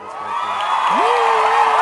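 A studio crowd cheers and whoops at a guest's welcome, a steady broad roar with a rising whistle-like whoop sweeping in partway through and holding to the end.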